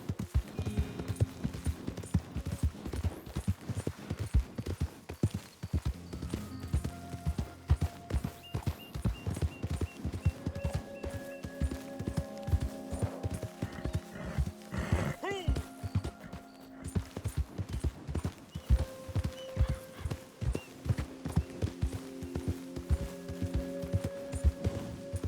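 Horse hooves clip-clopping steadily in Red Dead Online, a dense rhythmic stream of hoofbeats running the whole time with a voice talking over it.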